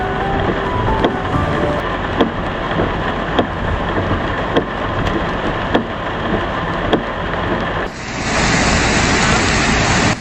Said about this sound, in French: La rivière s'est transformée en un torrent impétueux